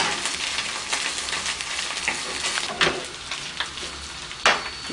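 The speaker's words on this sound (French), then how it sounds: "Tu l'entends, ça grésille un peu." Food fries in a pan, giving a steady close crackle and sizzle with scattered louder pops while it is stirred and turned, and nobody speaks over it.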